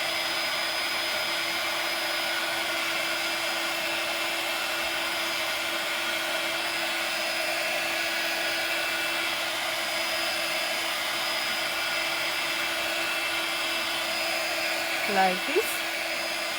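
Hair dryer blowing steadily on a clay coffee mug, a loud continuous whir that runs throughout, with a brief voice and small clatter near the end.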